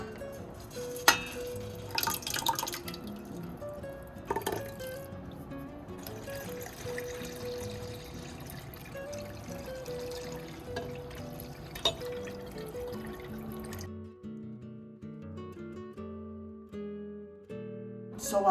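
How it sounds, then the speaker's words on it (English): Water rinsed out of passata bottles trickles and pours into a pot of tomato sauce, a soft uneven dribble with a few sharper clinks before it stops near the end. "obviously rinsing the bottles with water"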